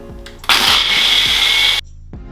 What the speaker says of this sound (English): You're just going to turn the blender on full blast and just let it go through the motions.